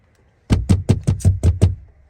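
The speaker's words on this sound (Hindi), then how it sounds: "किया खटखटा रहल छियै?" Seven quick, firm knocks rap on a door in an even rhythm, close and loud, following a brief silence and ending abruptly.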